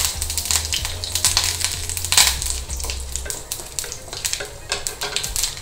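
Mustard seeds, urad dal and curry leaves fry in hot oil for a Tamil home-style kuzhambu and poriyal, giving a steady, close crackling sizzle with sharp pops and a low hum under the first few seconds.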